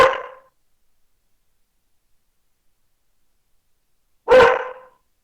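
A dog gives two separate bark bursts, one right at the start and another about four seconds later, fairly loud and close, with silence in between.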